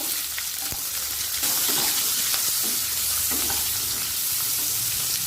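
Quartered small onions frying in hot oil in a pan, a loud steady sizzle that fills the whole stretch, with a few brief stirring knocks and scrapes close by.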